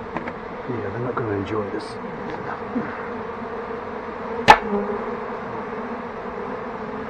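Honeybees hum steadily inside a nest being taken out of a house slated for demolition, a dense continuous drone with one sharp clack midway, while people talk quietly over it.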